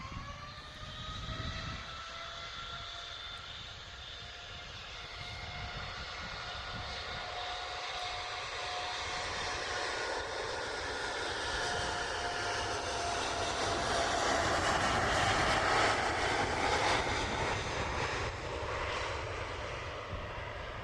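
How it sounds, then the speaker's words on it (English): A Boeing 787 Dreamliner takes off at Manchester Airport, its jet engines roaring in a long, steady swell that builds toward a peak and then holds, heard alone from a distance. "Here's the Dreamliner."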